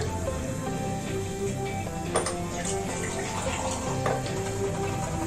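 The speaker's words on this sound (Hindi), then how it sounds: "अब इसमें हम डालेंगे पानी।" Water is poured from a glass into a pan on a lit stove while preparing sago dessert, a soft steady splashing and trickling pour with faint background hum and small clinks.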